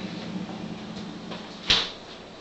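A freezer door opens or closes with one short, fairly soft thump and click against quiet room noise.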